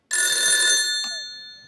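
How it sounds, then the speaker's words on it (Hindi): A telephone ringing during a phone-a-friend call on a comedy show, one short bright bell burst that rings out and slowly fades. "मैं अपने दोस्त को फोन लगाता हूँ"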